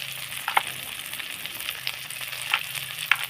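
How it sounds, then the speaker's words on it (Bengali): Spice paste with turmeric and chili powder sizzling and frying steadily in a pan, a continuous close hiss with a few sharper crackles, no talking. "মশলাটা কি সুন্দর কষা হয়ে গেছে"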